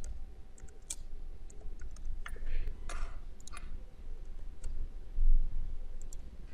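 Help text being typed on a computer keyboard, heard as a steady run of close, irregular key clicks and taps over a low background hum.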